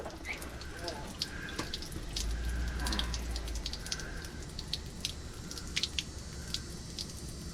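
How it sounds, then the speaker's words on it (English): Coolant water drains and trickles out of a 2003 Dodge Ram engine during water pump removal, a steady splashing flow with sharper drips, under faint background noise. "Here, we'll let it drain out."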